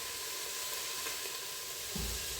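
Carrots, onions and garlic sizzle steadily in olive oil in a pan, a constant close crackling hiss, with a brief low bump near the end like a stir or a pan movement.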